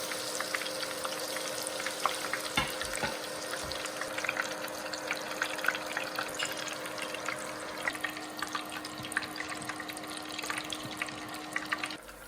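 Tempura batter and vegetables frying in hot oil, with a steady, dense crackling sizzle that carries on without a break and small pops scattered through it, and no talking.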